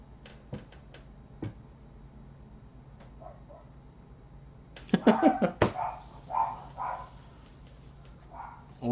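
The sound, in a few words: small dogs barking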